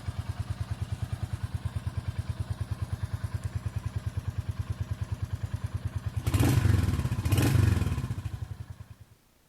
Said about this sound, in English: I'm just going to blip the throttle for you.